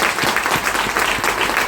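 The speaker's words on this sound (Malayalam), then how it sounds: "ആ ഉൾക്കൊണ്ട ആളുകൾ ഒന്ന് നല്ലൊരു കൈയടി." An audience at an indoor talk claps in a brief, dense burst of applause, close and lively, with no speech over it.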